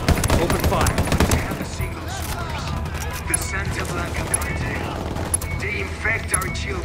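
Gunfire erupts in Ghost Recon Wildlands, with rapid overlapping bursts and scattered shots forming a dense, busy firefight while voices speak over the shooting.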